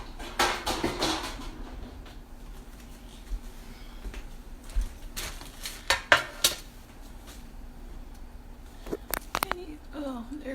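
Scattered clanks and metallic clatters of a pan being pulled out and handled in a home kitchen, with sharp knocks spaced among quieter rustling and faint room noise.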